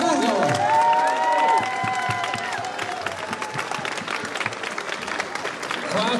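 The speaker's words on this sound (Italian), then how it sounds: "un applauso per il Burgo" A crowd applauds at the 2019 Agosto Medievale awards ceremony, sustained clapping and some cheering while an announcer speaks over a loudspeaker at the start, the clapping continuing dense to the end.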